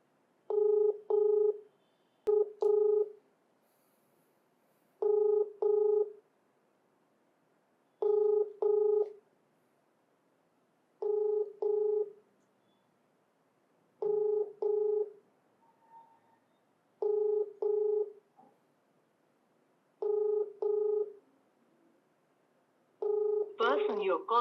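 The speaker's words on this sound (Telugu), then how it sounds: "ఇప్పుడు లైన్లోకి వచ్చిన మనిషి, ఫోన్ రింగ్ అవుతుంది." A telephone rings back repeatedly on a call, each ring a double burst of tones at an even, steady rhythm. The rings are moderately loud and clean, with near-silence between them.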